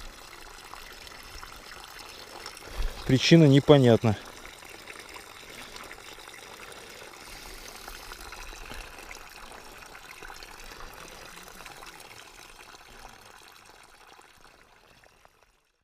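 Water gushes briefly through a faulty valve into a small fishing boat on a river, a loud splashing burst lasting about a second amid quiet outdoor ambience.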